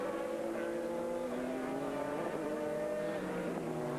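An ALMS race car accelerating hard out of a fast section of the circuit in 2000, its engine note climbing steadily in pitch as it builds speed, loud and continuous throughout.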